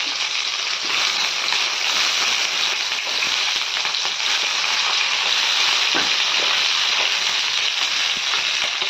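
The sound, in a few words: stuffed tomatoes frying in hot oil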